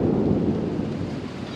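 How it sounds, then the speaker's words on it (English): A heavy thunderstorm near a home pool, with a steady roar of downpour and low rumbling thunder filling the whole stretch, loud and continuous with no voices. "has been thundering and storming really good for the last like hour"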